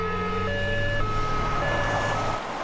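An ambulance siren wails with a loud two-tone pattern, alternating pitch roughly every half second, close by and steady with a low rumble of traffic beneath and no talk.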